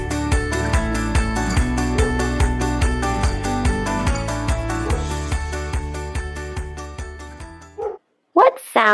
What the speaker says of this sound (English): What sound does our doggy friend make?